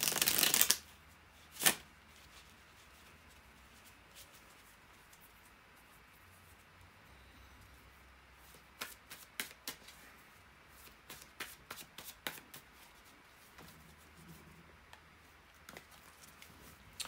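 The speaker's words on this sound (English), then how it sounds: "bear with me just a second here to shuffle the tarot cards" Tarot cards being shuffled by hand: a sharp riffle at the start, then quiet rustling and a run of soft crisp flicks and taps later on, close and fairly faint, with no talking.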